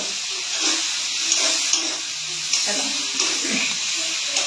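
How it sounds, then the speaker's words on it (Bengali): Paneer frying in a kadai over a low gas flame, a steady loud hiss and sizzle with faint pops, heard close and continuous while a voice talks briefly. "এটা ভাজা ভাজা হয়ে যাক"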